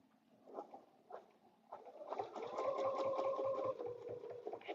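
A sewing machine stitches a quilted table runner, starting with a few short bursts and then running steadily and fairly loud with a rapid, even mechanical clatter, close up and with no voices.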